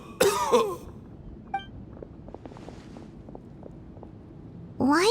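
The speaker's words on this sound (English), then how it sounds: "Why is he coughing so much?" A man coughs repeatedly in a video game cutscene from Genshin Impact, a series of short dry coughs at a steady pace between louder effects at the start and end.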